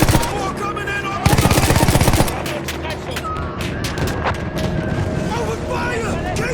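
Rapid machine-gun bursts and rifle gunfire from Battlefield 1 combat, loud and dense, with a sustained volley early on giving way to scattered shots and battle noise while voices shout over it.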